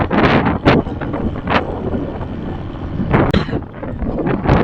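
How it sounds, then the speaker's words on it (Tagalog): Cold wind gusts across a scenic viewpoint, buffeting the microphone in loud, uneven rushes with a few sharper blasts. "yung hangin niya, simoy ng hangin ay sobrang lamig"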